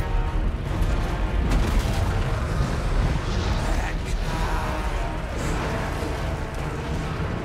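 Cannon artillery fires during a Total War: Warhammer 2 battle, a dense, continuous rumble of booms and blasts layered with distant battlefield din, loud throughout.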